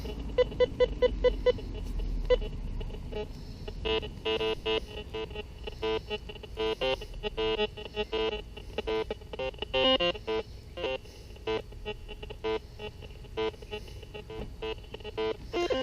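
Whites MX Sport metal detector sounding its reject tone, a series of rapid electronic beeps and warbling pulses, loud and repeated in uneven bursts over a faint background hum.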